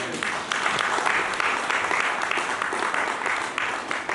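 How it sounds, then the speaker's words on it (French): A church congregation claps together, a dense, steady wash of applause that stays even and fairly close across the whole stretch. "Acclame le Seigneur."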